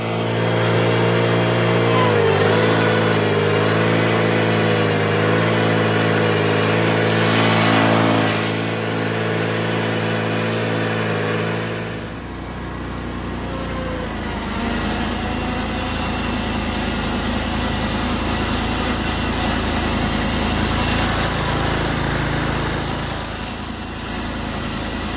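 A Yazoo-Kees zero-turn mower's small engine runs steadily while the machine is driven, a loud continuous drone with a shift in pitch and texture midway as it moves off, no voices over it.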